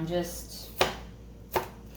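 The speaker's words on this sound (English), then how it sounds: "I am not chopping these up elegantly at all" A knife chops bell peppers roughly on a cutting board in a home kitchen, two distinct close thunks about three quarters of a second apart over a faint steady background hum.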